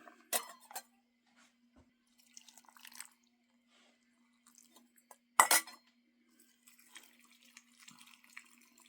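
Canning jars filled with ham and bean soup at an inch of headspace are debubbled with a utensil: two short, fairly faint clinks against the glass, one near the start and one midway, with quiet gaps between.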